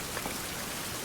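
Steady rain falls in Fountain of Youth, a 16th-century survival game, as a dense, even hiss of drops on surfaces with no pauses and no voices.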